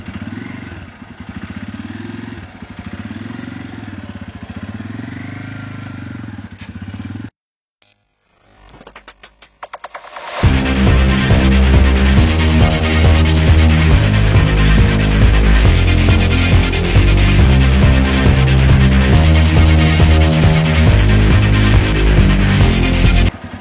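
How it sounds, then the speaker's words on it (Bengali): A UM Renegade Commando motorcycle being ridden: after a brief quiet gap and some clattering, the engine comes in loud and close with a steady throbbing rumble that holds for over ten seconds. "এই বাইকটা নিয়ে আমি একটু রাইড করব"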